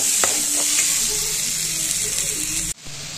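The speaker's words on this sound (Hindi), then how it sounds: "तो इसको अच्छे से फ्राई कर लेंगे" Kusi rai, a chickpea-like ingredient, sizzles steadily in hot oil in a pan while being fried for gravy, with a few faint clinks of stirring, until the sizzle cuts off abruptly near the end.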